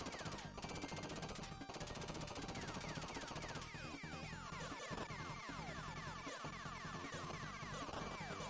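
Enemy fire from an arcade game on a Vewlix cabinet, a loud, steady stream of rapid electronic shots over the game's constant music and effects, with rising and falling synthetic tones running throughout.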